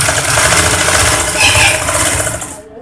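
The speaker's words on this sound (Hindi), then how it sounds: "जो फिटिंग का निशान लगाया उस पर सिलाई लगा लेते हैं" A sewing machine stitching a ladies' pajama pant, whirring loudly and continuously at an even pace before cutting off abruptly just at the end.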